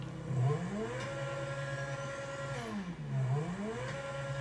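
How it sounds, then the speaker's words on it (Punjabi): A car engine revs in two rising and falling surges, a few seconds apart, under a steady idle hum, fairly close and moderately loud. "ਤੁਹਾਨੂੰ ਮੈਂ ਆਵਾਜ਼ ਦਿਖਾਉਂਦਾ ਗੱਡੀ ਦੀ ਦੇਖਿਓ"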